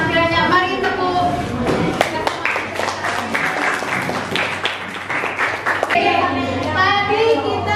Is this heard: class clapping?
yes